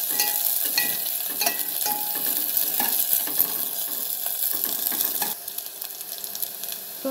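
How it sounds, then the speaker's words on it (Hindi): Ragi soup base with fresh mint frying in a pan, a continuous bright sizzle with occasional stirring clicks and scrapes, close and fairly loud, quieting slightly near the end. "इसको एक बार फ्राई कर लेंगे"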